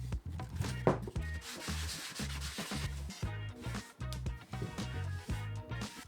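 Sandpaper rubs back and forth over a birch wood panel in steady rhythmic strokes, a close, soft scratchy sound repeating about once a second with no talking.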